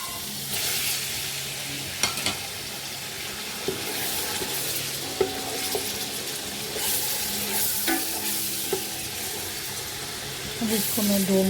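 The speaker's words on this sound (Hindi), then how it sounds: "अब इसको मैं 2 मिनट अच्छी तरह इसमें फ्राई कर लेती हूँ।" Boneless chicken with garlic ginger paste sizzles in hot oil while a utensil stirs and scrapes the pan, bringing a few sharp clinks and a steady frying hiss that swells near the end.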